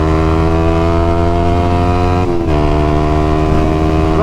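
A 2020 Yamaha YZF-R125 motorcycle engine drones loud and steady at high revs in second gear as it accelerates toward top speed, with a brief dip in pitch around a gear change before the strained whine resumes.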